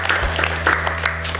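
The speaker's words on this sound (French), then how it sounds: "On peut applaudir une nouvelle fois" An audience gives a short, steady round of applause in a room. The clapping is fairly close and carries on for the whole moment, with a low steady hum underneath.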